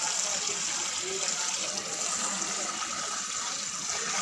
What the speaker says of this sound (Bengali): চাল ধোয়া হচ্ছে